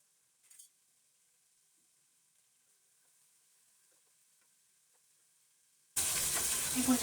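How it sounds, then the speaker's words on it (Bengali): Chicken dropped into hot oil for fried rice bursts into a sudden, loud, close sizzle after several seconds of near silence, cut off almost immediately. "চিকেনটা ভেজে নেব।"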